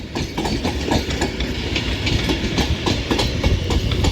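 An Avanti West Coast Class 390 train, unit 390.002, rolls into platform 11 at Crewe, its wheels clattering rhythmically over rail joints under a steady, close rumble.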